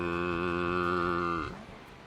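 Miltank's cry from Pokemon LeafGreen, a single sustained synthesized moo with a bright buzzy harmonic tone that holds steady for about a second and a half, then drops and fades out abruptly, heard alone.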